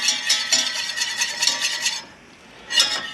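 Butter melting with mustard is stirred in a pan on a motorhome stove, a steady run of scraping, clinking strokes that pauses briefly before resuming.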